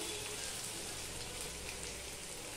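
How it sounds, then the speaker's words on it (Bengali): Onion and potato fry in a pan as a faint, even crackling hiss that sounds almost like light rain, with no talking. "পেঁয়াজ আর আলুটা আমি ভেজে নেব"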